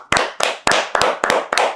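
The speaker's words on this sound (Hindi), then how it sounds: "तो पहली बात तो तालियां यूट्यूब के लिए" Six sharp, evenly spaced claps in a short run, loud and close, with no other sound between them.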